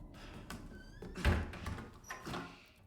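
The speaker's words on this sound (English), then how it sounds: "Could you close the door a little bit quieter?" A door closes in the video game Resident Evil 4, its Chainsaw Demo, with a soft thunk and a few quieter creaks and knocks. The sound is faint and low in level.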